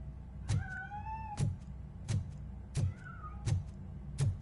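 A cat meows twice in clear, drawn-out calls, set among a steady run of soft, evenly spaced thumps, like footsteps, that land about every three-quarters of a second.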